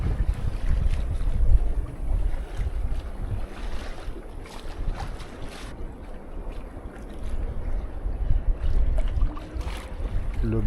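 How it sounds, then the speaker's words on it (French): Sea waves breaking on a reef off the Cuban coast near Cienfuegos, heard from a sailboat as a steady low wash and rumble with gusting wind noise on the microphone, surging louder in places. "Le bruit de la mer s'échouant sur le récif, c'est beau."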